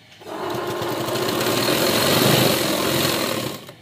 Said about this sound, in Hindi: अब हम दोबारा ऊपर से और एक सिलाई करेंगे इसके साइड से।